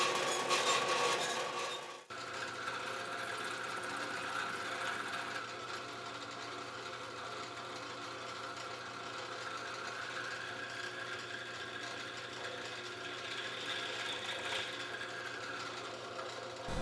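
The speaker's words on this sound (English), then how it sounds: "Using the bandsaw, we cut a slot in the pipe end to provide clearance for the wires." A bandsaw cuts a slot in a pipe end: a steady mechanical whir with a rasping, ratchet-like texture runs throughout, preceded by a brief louder burst of machine noise at the start, with no talking.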